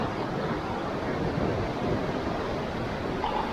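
Ocean surf at Higher Sharpnose Point on the Cornwall coast rolls in as a steady, broad wash of wave noise mixed with wind, continuous and without distinct breaks.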